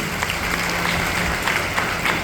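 Loud applause from an audience in Palamu at a motivational gathering, a dense steady wash of clapping with a few sharper peaks throughout, no voices on top.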